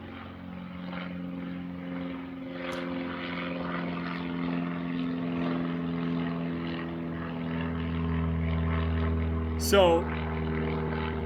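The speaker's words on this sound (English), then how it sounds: "Big plane rolling around." Large propeller airplane taxiing, its steady droning engine hum sustained and fairly prominent throughout, with a brief squeal near the end and a voice speaking at one point.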